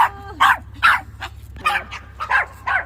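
Several dogs bark in quick, irregular bursts close by, some yips and higher barks mixed in, heard outdoors on a street with no talk over them.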